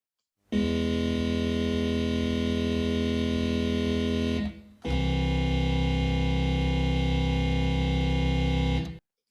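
Loud, heavily distorted electronic music holds a steady drone, stops briefly, then returns and continues; there is no voice over it.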